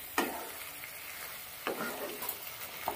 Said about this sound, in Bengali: ঢাকনা খুলে ভালো করে কষিয়ে নিচ্ছি।